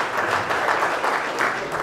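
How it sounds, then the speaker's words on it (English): Steady audience applause at a business leaders' event fills the whole stretch, dense and even with no talk over it. "Give him a round of applause."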